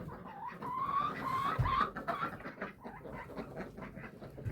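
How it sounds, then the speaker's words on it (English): A chicken on a windy homestead gives a few rising clucks and a squawk over gusty wind noise, fairly near, followed by scattered softer clucking. "There's a chicken up there."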